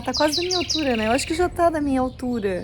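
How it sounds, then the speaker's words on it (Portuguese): A canary sings in a flower garden, its bright chirps and tweets mixed in with someone talking close by. "E olha esse canarinho cantando."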